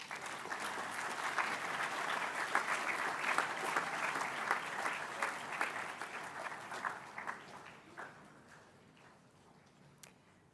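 An audience claps at a school assembly for student musicians, vocalists and a clarinettist, in a steady round of applause heard at a moderate distance, thinning and fading out near the end with a few last claps.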